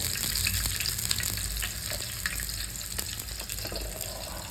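Cumin, garlic and chili fry in a pan with a dense, steady sizzle and crackle, punctuated by faint clicks of stirring throughout.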